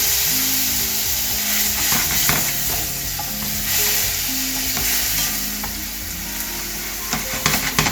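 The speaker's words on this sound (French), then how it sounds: "on va ajouter un petit peu de vin dedans" Wine poured into a hot pan of caramelised chicken stuffing, hissing and sizzling loudly and steadily while a utensil stirs and scrapes, with no voices.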